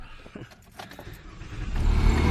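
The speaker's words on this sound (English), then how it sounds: "I got to move the cars" Car engine idling and rising as vehicles are shifted around a driveway in South Florida ahead of Hurricane Irma, with a brief jangle of keys early on and a steady, swelling rumble toward the end.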